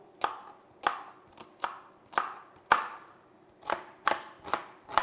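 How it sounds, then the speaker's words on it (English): A knife chops onion and capsicum sharply against a cutting board, about ten crisp strikes at an uneven, unhurried pace, close up with no talking. "all I'm going to be doing is chopping up the onion and the capsicum"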